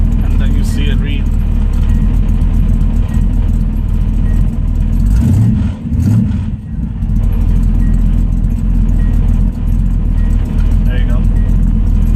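A small-block Chevy V8 swapped into a Nissan D21 truck idling with a steady, loud, low rumble throughout, with someone talking over it.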